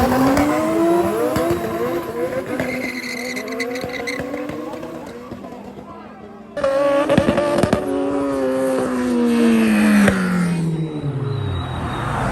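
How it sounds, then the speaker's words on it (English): A turbocharged Toyota Mark II race car with a 1JZ engine, running about 20 pounds of boost, roars down a drag strip. The engine pitch climbs through several gear changes, cuts out sharply, then surges again, with tire squeal and crowd noise. "This is a Mark II with a 1JC turbocharged."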